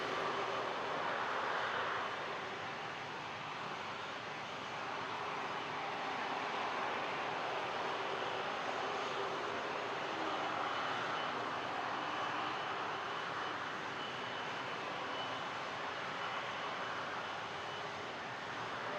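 A jet airliner taking off on runway 23 at Toronto Pearson airport (YYZ), a broad, steady engine roar heard from a distance that holds for the whole stretch with no voices over it.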